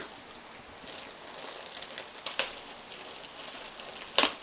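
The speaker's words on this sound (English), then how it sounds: "we got rain." Rain falls outdoors as a faint, steady patter, with a few sharper drops and splashes landing nearby.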